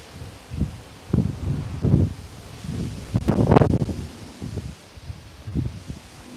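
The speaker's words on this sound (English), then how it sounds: "A lot of wind down and off the left today." Wind gusting across an open golf course, buffeting the microphone in uneven rumbling surges that swell and fade, strongest in the middle, with no talk.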